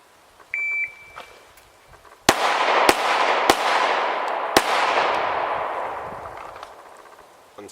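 Glock 17 pistol shots in a timed drill: a short electronic timer beep, then four loud, cracking shots in quick succession with long echoing reverberation, and no voices.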